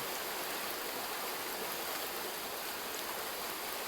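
A gentle stream current flows steadily, a soft, even hiss of moving water heard alone and at low level throughout.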